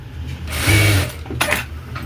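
A Jack A2 industrial sewing machine trimming its thread automatically, a short loud mechanical whirr and clack lasting about half a second, followed by a quicker, fainter click and buzz, close up with no talking.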